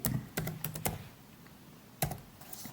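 Keys tapped on a computer keyboard as a file name is typed, a quick cluster of close, crisp clicks at first, then a pause and a few more taps, in a quiet room.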